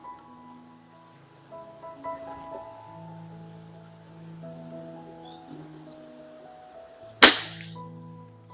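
A single sharp crack from a .25 calibre Theoben Eliminator air rifle fired on a bench, loud and close, coming late over quiet tonal background hum.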